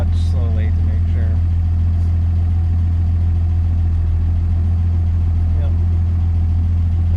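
A 1964 Plymouth Belvedere engine idles in neutral with a loud, steady low rumble that never lets up, while people talk briefly over it.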